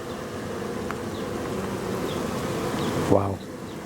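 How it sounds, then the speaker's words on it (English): Honeybees buzz in a steady, dense drone from an open hive during a spring inspection, close and continuous, with a brief knock or scrape near the end. "I've got wall-to-wall bees."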